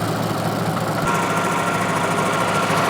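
The engine of a swing-type stump grinder runs under load as it grinds a stump. A loud, continuous, rough drone labours slightly and stays steady the whole time.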